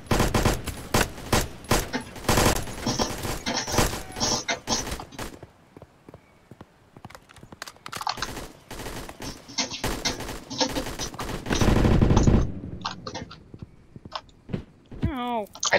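Automatic gunfire in the video game Blackhawk Rescue Mission 5, rapid loud bursts of shots in clusters with a quieter gap midway, voices talking over the shooting.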